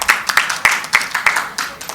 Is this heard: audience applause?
yes